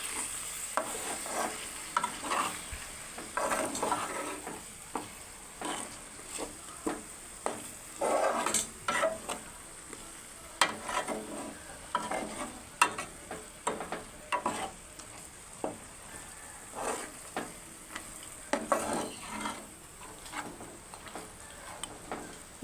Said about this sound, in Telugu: కొంచెం కొత్తిమీర వేసి మొత్తం ఒకసారి కలుపుకోవాలండి.